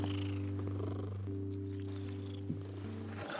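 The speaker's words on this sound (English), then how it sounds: "Listen. She's purring." A cat purrs steadily and close by, a continuous low rumbling drone with soft rhythmic pulsing, with no voices over it.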